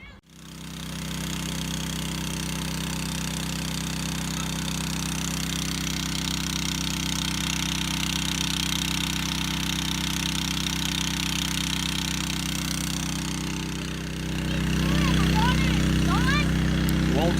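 A water pump engine runs at a small pond dig beside an excavator, giving a steady, close, loud mechanical drone with a low throb that continues without a break and grows slightly heavier near the end.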